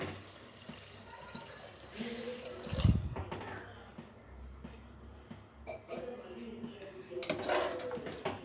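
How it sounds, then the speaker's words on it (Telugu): Water splashes and pours into a pot of mutton bone curry with spices, a close, uneven liquid rush with a metallic clunk partway through. "ఇప్పుడు ఇందులో వాటర్ యాడ్ చేసుకుందాం"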